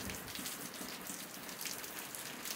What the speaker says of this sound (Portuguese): Porque não tem bica e a água cai toda no chão, a água da chuva